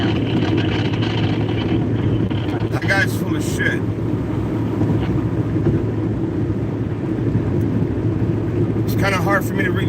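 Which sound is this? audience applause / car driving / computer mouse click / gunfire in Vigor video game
car driving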